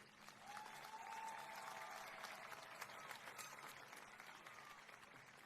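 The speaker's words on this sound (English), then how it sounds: "One more round of applause for Representative McGonigal." Audience applause at the Everett High School class of 2021 commencement, a broad, steady wash of many hands clapping, rather distant and quiet throughout.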